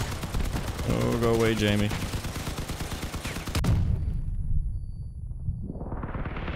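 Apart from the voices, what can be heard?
vehicle gunfire in the video game Crossout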